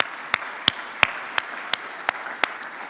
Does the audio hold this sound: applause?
yes